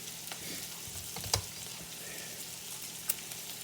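Onions fry in a pan for fried rice, giving a steady close sizzle with a few sharp taps of a spatula against the pan.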